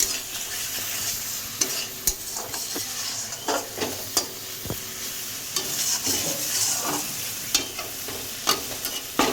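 Fried pointed gourd being stirred into spices in hot oil, a steady close sizzle with scraping spoon strokes and occasional knocks against the pan, no voices.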